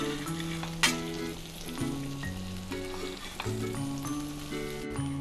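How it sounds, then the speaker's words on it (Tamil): Boneless chicken pieces fry in a pan over medium heat, a steady close sizzle that carries through, with a sharp clatter near the start and soft background music throughout. "கொஞ்சம் மிதமான தீயில வச்சு சிக்கனை நம்ம குக் பண்ணி எடுத்துக்கலாம்."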